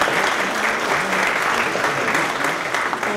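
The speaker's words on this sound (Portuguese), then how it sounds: "para quem eu peço um aplauso." An audience at a Brazilian university cooperation programme event claps steadily for a professor, giving a full, even round of applause at moderate volume throughout.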